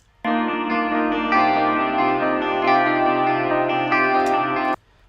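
A recorded, heavily distorted metal guitar sustains a single dense chord for about four seconds and then cuts off abruptly, loud and alone, with one note entering slightly late partway through.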